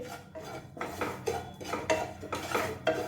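A spoon scrapes and clinks against a pan while semolina (rava) is stirred and roasted in ghee, giving a rhythmic series of metallic strokes over a soft background hiss, close and with no speech.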